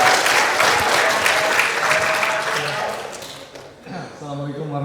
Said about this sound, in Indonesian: Yang pasti luar biasa buat kalian semua, tepuk tangan.